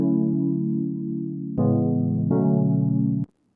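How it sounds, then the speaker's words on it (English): An FM-synthesized chord for a lo-fi house track, sustained and then retriggered twice, bright and harmonically rich, played alone before cutting off abruptly. "And the last sound we have is this chord,"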